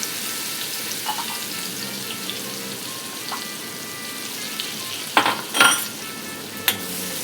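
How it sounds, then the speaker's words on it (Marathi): Garlic with a pinch of asafoetida and turmeric sizzles steadily in hot oil for a crab curry, with a few spoon scrapes and clinks as it is stirred, close and continuous, with no voices. "लसूणला हलवून घेते."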